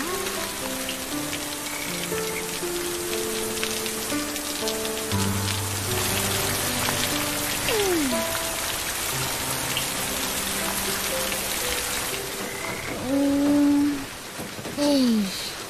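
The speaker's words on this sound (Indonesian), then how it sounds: "Boleh pula hujan lebat tak berhenti-henti." Heavy rain in an Upin & Ipin cartoon pours steadily as a continuous hiss over a soft music score, with a couple of brief sliding tones near the end.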